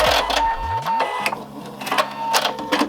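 Home sewing machine running a straight stitch forward, reversing to backstitch, then stopping, with a fast mechanical chatter in several short bursts and a whirring motor tone close up.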